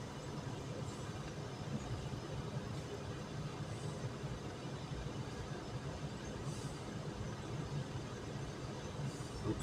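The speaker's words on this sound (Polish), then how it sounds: "lokomotywa już pojechała do przodu" Rail noise at Muszyna station as a locomotive pulls forward, a steady broad rumble and rolling hum that holds at even loudness throughout, fairly distant, with no talk.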